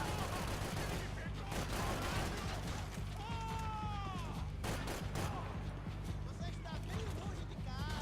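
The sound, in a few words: gunfire in Max Payne 3 video game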